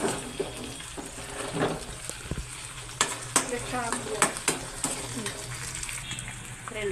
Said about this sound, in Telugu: సువాసన వచ్చేదాకా ఫ్రై చేయండి